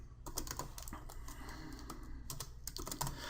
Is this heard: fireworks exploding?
no